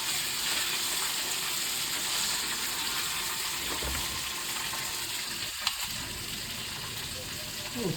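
Fish frying in hot oil gives a steady, broad hissing sizzle that runs evenly throughout, with one brief sharp tick partway through.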